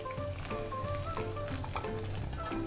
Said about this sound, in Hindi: अब इसके अंदर हम ये चाशनी डाल देंगे